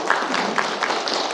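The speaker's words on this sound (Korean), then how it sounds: "이현정 강사님을 큰 박수로 맞이해 주시기 바랍니다" Audience at a Jayang 1-dong Moa Town residents' briefing in Gwangjin-gu claps to welcome lecturer Lee Hyun-jeong, a brief, even wash of applause from a roomful of people.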